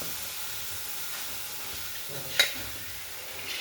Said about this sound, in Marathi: गॅस चालू करून गॅसमध्ये गॅसवरती कढई ठेवून त्यामध्ये मटकी टाकू